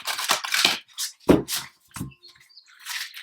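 Tarot card deck being shuffled by hand, a series of short, crisp riffling bursts and flicks separated by brief pauses, close and clear with no talk.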